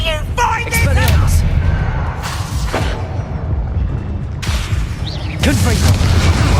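Spell explosions boom and crackle in the Hogwarts Legacy video game, a loud deep rumble with bursts of debris and magical whooshes, mixed with voices and other spell effects.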